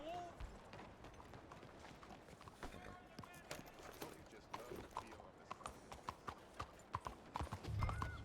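Horse hooves clip-clop in a steady, close rhythm in the video game Red Dead Redemption 2, with faint in-game voices and ambience underneath.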